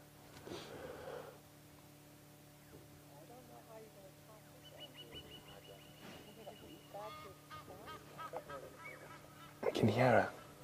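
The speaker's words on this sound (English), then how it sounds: "I can hear an Egyptian goose making noise in the distance." An Egyptian goose honks in the distance at a wildlife safari site, faint calls scattered through the clip, then a louder burst of honking near the end, with a person talking quietly over it.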